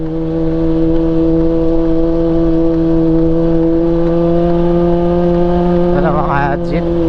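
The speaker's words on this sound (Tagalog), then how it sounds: "tunog ng ating motor" A Honda CB400 motorcycle engine running steadily on a mountain road in Ifugao, a constant close drone holding one pitch, with a short burst of higher sound near the end.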